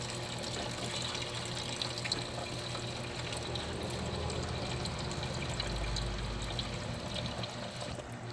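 Coolant pouring out of a Kia Soul engine as it is tilted during an engine replacement, a continuous liquid splash and trickle that swells to a heavier gush near the end.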